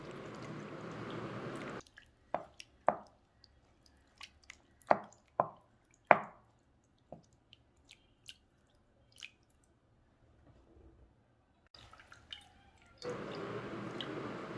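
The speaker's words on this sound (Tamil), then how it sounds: "இதை நல்லா கட்டியாக பிழிஞ்சு எடுத்துக்கோங்க." Freshly made paneer is squeezed by hand to press out the water for paneer jamun, giving soft, scattered drips and wet squishes, quiet and close, separated by near-silent gaps and framed by brief bursts of running water.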